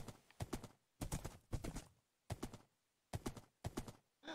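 A horse's hooves clip-clop in a video game, arriving in short quick bursts of two or three strikes separated by brief pauses, fairly close and clear with no talk over them.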